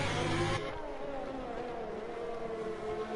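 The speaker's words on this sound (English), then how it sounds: "You just hear the engine suffering a little bit." A Global Rallycross race car engine strains hard down a straight at the Azerbaijan round, a loud high revving whine that drops slightly early then holds a sustained strained tone, with no talking.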